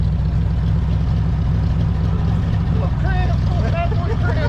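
A 1930 Ford Model A hot rod engine of about 19 horsepower runs loud and close, its steady low rumble holding throughout, with some talk over it near the end.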